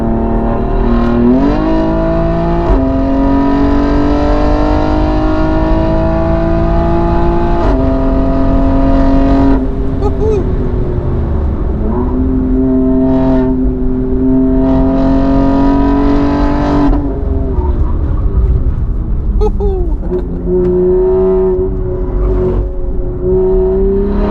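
A 710hp BMW X3M engine roars loudly from inside the cabin on the Nürburgring, climbing through the revs again and again with a dip at each gear change, and it stays sustained and aggressive throughout.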